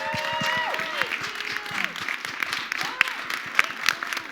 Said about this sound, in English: one more time, a massive round of applause for everyone here today